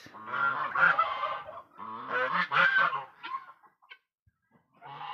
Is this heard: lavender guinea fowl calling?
yes